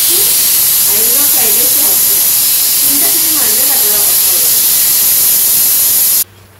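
Spiced masala sizzles and hisses steadily in oil inside a covered pan, a loud continuous frying hiss with faint talk beneath, cutting off abruptly near the end.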